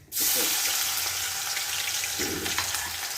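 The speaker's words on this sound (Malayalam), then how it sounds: "കൂട്ടത്തിൽ ഞാൻ കടുക് പൊട്ടിക്കൊണ്ടിരിക്കുകയാണ്" Mustard seeds splutter in hot oil in a home kitchen, making a loud, dense, continuous sizzle close to the pan, with a few brief rustles and no voices.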